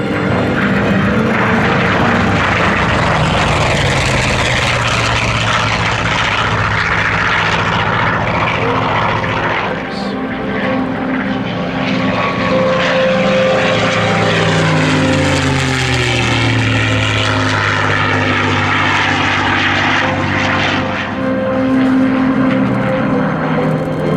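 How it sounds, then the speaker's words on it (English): A Focke-Wulf Fw-190 WWII fighter with a 1,600-horsepower piston engine roars past on a flyby, its propeller drone loud and sustained, the pitch sweeping as it approaches and recedes. "the first aircraft in our group, the Focke-Wulf Fw-190"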